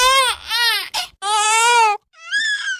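A high, tonal wailing cry of a jackal cub in a children's story, several loud close bursts with wavering pitch, separated by short pauses and a final thinner whimper, heard alone.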